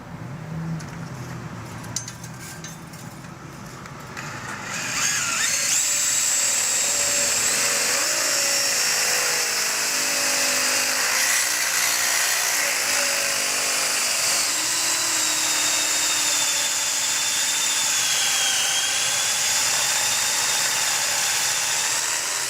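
A high-pitched power drill spins up and whines continuously at high speed, at least 2,000 RPM, loud and close, after a brief quieter stretch at the start, during an evaporator coil replacement.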